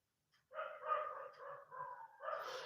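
Neighbours' dogs howl and whine abnormally at some distance, a sustained wavering cry that starts after a brief silence and swells again near the end, with no talking.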